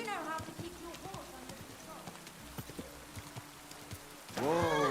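A horse's hooves clip-clop in a steady rhythm across ground in the video game Kingdom Come Deliverance 2, with a voice cutting in briefly at the end.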